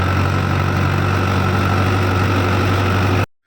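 Powertrac Euro 60 tractor engine pulling an 8-foot rotavator while sowing wheat, a loud steady low diesel drone that cuts off abruptly at the end.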